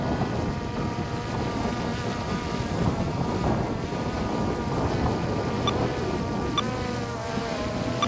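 A Skydio 2 drone hums with a buzzing, insect-like whine as it descends, heard at a moderate distance against a soft wind rush.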